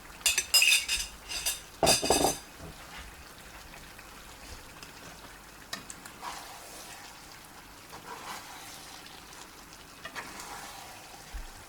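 Onions being stirred in a pan while frying for Uzbek mashkichiri, with clinking spoon-on-pan scrapes in quick bursts at first, then a soft steady sizzle with occasional light taps.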